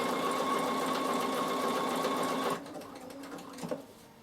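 Bernina sewing machine stitching soft thread on a fabric storage box, a steady fast mechanical whir for about two and a half seconds, then stopping, with a few faint clicks after.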